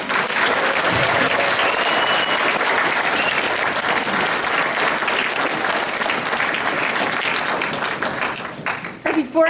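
A school audience gives sustained, dense applause for the teacher who staged a grade 7 play. The clapping is loud and continuous for about eight seconds, then thins out and fades at the end.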